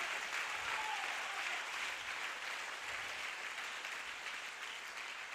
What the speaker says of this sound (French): Give a clap offering.